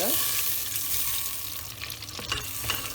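Spoonfuls of pepper paste and tomato paste fry in melted fat for a Turkish soup, a continuous close sizzle with occasional scraping stirs and no voices.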